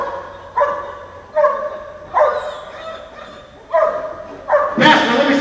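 A police dog barks in five loud, sharp, separate woofs spaced roughly a second apart, close by during a tense vehicle stop, the last bark blending with a burst of shouting.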